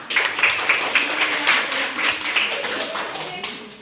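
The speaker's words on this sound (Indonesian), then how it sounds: "Tepuk tangan dong pertama." A school class claps for a group after a presentation on global warming, a bright, even patter of many hands in a room that keeps up for several seconds, with voices faintly mixed in.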